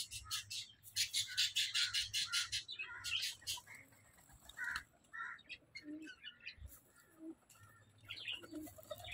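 Pigeons and other birds gather at feeding time as grain is scattered, with bursts of fluttering, squawks and chirps up close, then scattered softer calls and rustles in a quiet yard.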